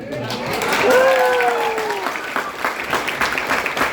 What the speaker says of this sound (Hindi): तो जबरदस्त तालियों के साथ अखिलेश जी के लिए बुके लाइए